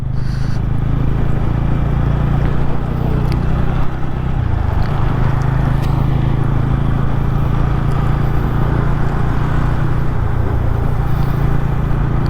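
TVS Ronin motorcycle cruising below 60 km/h on a city-to-highway ride, its engine a steady, loud low drone with constant wind rush throughout, no talking.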